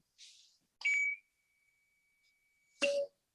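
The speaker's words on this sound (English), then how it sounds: "the multimeter is beeped with a beep sound because the relay is closed" A multimeter gives clear electronic beeps as a relay closes in a Meanwell DALI lighting controller setup: a short bright tone, then a sustained faint tone, and a final louder beep, in a quiet room.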